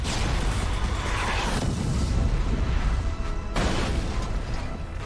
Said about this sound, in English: The faster you pump, the bigger the crash breaker explosion.